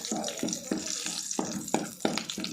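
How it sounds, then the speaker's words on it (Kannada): Curry leaves fry in hot oil left from earlier roasting, a steady close sizzle with soft scraping stirs at a regular beat and a faint tap-water-like hiss running under it. "ಅದೇ ಆಯಿಲ್ಗೆ ಬೇವಿನ ಸೊಪ್ಪು ಸ್ವಲ್ಪ ಚೆನ್ನಾಗಿ ಫ್ರೈ ಆಗಲಿ"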